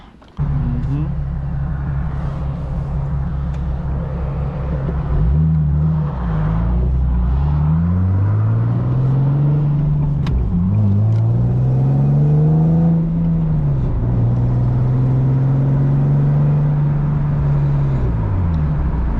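A Nissan 370Z with a straight pipe exhaust driving through several gears, its raspy engine note repeatedly climbing and dropping with shifts, steady and fairly loud from inside the car.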